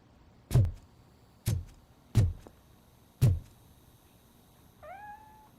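A cat meows once, short and moderately loud, in RoboCop: Rogue City. Four sharp, evenly spaced thuds come before it.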